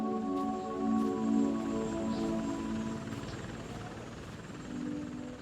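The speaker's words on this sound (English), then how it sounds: "It felt wonderful when the helicopter finally landed at the airport" A helicopter drones steadily with a strong rotor hum and whine, loud and close, holding throughout as it lands at an airport in St. John's.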